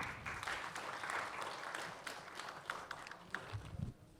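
Applause from a seated audience at a young poets' mushaira at Jashn-e-Adab, welcoming a poet to the stage; a steady, moderately loud wash of clapping with a few sharper claps near the end.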